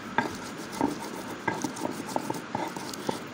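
Mint and other chutney ingredients are ground by hand, giving soft scattered taps and scraping knocks at a quiet, close level, irregular and without talk.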